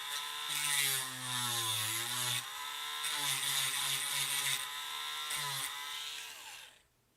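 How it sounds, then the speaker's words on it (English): A Dremel rotary tool lightly sands away dried super glue during a toy repair, its high whining buzz rising and falling in pitch as it bears on the plastic, close and sustained for several seconds before winding down. "We're doing a real light Dremel just to kind of even it out wherever the super glue was"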